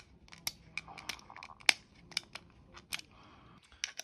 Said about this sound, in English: So we're just gonna have to break those off. Comes off real easily. Just need like something flat just to peel it off.